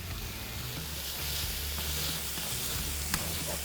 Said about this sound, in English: So our veggies are cooking down,